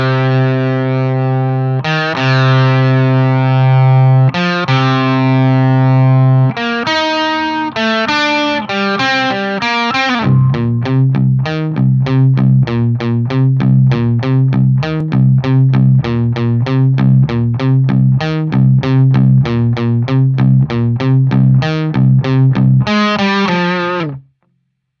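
Electric guitar through an amplifier, played dry with no effects: a loud, sustained chordal part with a gritty edge, starting with a few long ringing chords and then settling into a fast, steady run of repeated picked notes.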